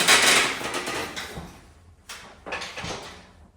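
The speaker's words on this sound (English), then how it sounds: "come over and grab your reformer and tip it gently over" An aluminum Elite Studio Pilates reformer is tipped gently onto its side, with a few close knocks and a scraping rumble of frame and wood as it settles, no talking.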